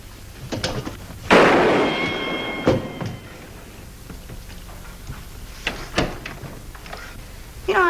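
A single sharp gunshot rings out in a 1950s Annie Oakley TV western as a bullet knocks something from a man's hand. It is a loud, close crack with a short decaying tail, followed by quieter thuds and rustles.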